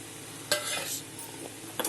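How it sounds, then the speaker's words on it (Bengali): Spices and a tomato for rui fish curry sautéed in a pan, a soft steady sizzle with a couple of sharp stirring scrapes near the start and end, close and fairly quiet. "মশলাটা সব একসাথে আমি এখন কষিয়ে নেব।"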